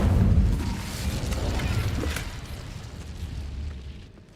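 Incendio fire spell cast in the Hogwarts Legacy video game, a deep booming burst of flame with a rumbling low roar that swells at once and fades over a few seconds, heard alone.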